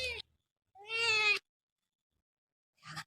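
A pet cat meows: a short cry, then a longer drawn-out harmonic meow about a second later, and a brief faint call at the end, separated by silence.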